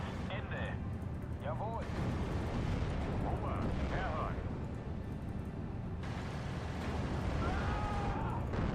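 Artillery fire in the World War II strategy game Steel Division Normandy 44 rumbles as a dense, continuous barrage of booms with someone talking over it.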